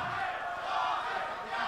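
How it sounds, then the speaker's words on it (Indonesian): A crowd at an Indonesian gubernatorial election debate roars with a steady, dense wash of clapping and cheering voices that holds at the same level throughout. "Kita beri tepuk tangan untuk pasangan nomor 1."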